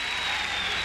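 A packed tennis crowd at a 2000 Toronto quarterfinal between Pete Sampras and Marat Safin breaks into dense, sustained applause, heard as a steady wash of clapping in a big stadium.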